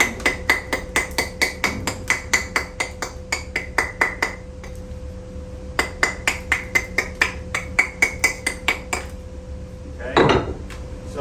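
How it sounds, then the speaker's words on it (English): Steady, sharp metallic strikes of a bush hammer texturing the edge of a stone veneer piece, struck rapidly and close in a ringing rhythm, with a short pause midway and a scraping hit near the end. "Sometimes, depending upon the stone, I'll use this bush hammer"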